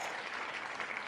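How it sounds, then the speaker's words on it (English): Applause from a crowd after a wheel spin during a sports-betting livestream: a steady, dense wash of clapping, faint and in the background, with no voices. "I really like the clapping in the background after it spins."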